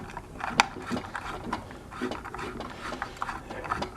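A bolt on a Smart Balance board wheel fender is tightened by hand during a wheel replacement, giving close, irregular metallic ratcheting clicks and scrapes at moderate loudness with no talking.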